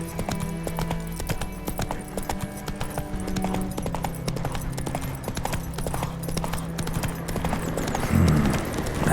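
Roach the horse gallops in The Witcher 3, a steady rapid clip-clop of hooves running continuously throughout, fairly loud and close over a low game soundscape, with a brief snort or whinny near the end.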